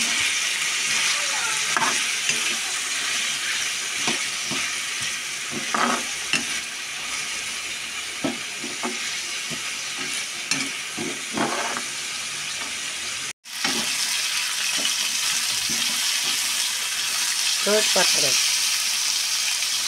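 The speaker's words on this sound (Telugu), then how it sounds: "పచ్చిమిరపకాయలు, దొండకాయలు, టమాటాలు అలా కట్ చేసుకుని వేపుకోవాలి" Green chillies, ivy gourd and tomatoes fry in a couple of spoons of oil, giving a steady close sizzle for about twenty seconds, with intermittent scraping and stirring strokes and a short break partway through.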